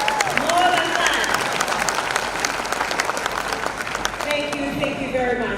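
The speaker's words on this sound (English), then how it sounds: "please give Dr. Obafemi a Victorian clap" Audience applauding at a university graduation ceremony, a steady, dense roar of clapping from a large crowd that holds loud throughout with a few cheers mixed in.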